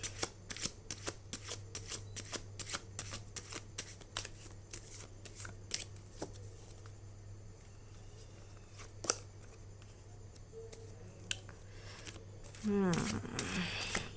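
Tarot cards being shuffled and drawn make quick, crisp riffling and snapping clicks in irregular bursts, close and quiet, ending with a brief louder flurry of card handling.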